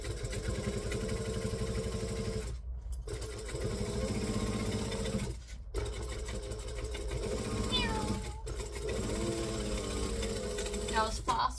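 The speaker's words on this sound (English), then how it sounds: "We are now going to stitch." A sewing machine stitches a craft tote in steady continuous runs, pausing briefly a few times, with a faint thin tone drifting above the motor hum.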